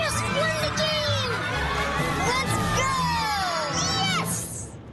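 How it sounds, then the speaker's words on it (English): Crowd cheering wildly at a baseball game, a roaring mass of excited voices with high shouts and whoops rising over it, staying loud throughout before easing slightly at the end. "And the crowd goes wild."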